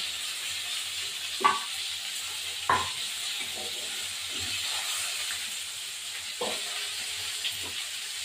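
Fish fry in hot oil with a steady soft sizzle as the pieces are lifted out of the pan one by one, with a few sharp clinks and scrapes breaking through.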